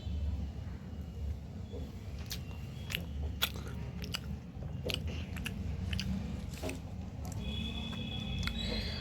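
Close, moist biting and chewing of dum aloo, soft crunchy and squishy bites repeating irregularly over a low steady background hum.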